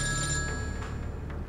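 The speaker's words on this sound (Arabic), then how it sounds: "بترجاك لا ترد على التليفون" A telephone rings steadily and loudly nearby with an electronic tone, heard alone with no talking.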